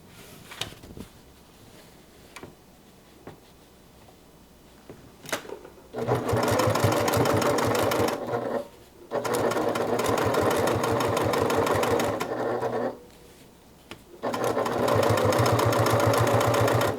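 A sewing machine top-stitches fabric in three sustained runs of rapid, loud mechanical chatter, separated by short pauses with faint handling clicks beforehand.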